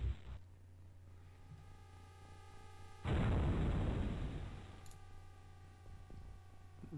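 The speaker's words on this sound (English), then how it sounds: "Aim shot with a big rocket" A big rocket in XCOM: Enemy Unknown bursts into a loud, booming explosion that rumbles for about two seconds before fading, set against a steady game hum and faint clicks.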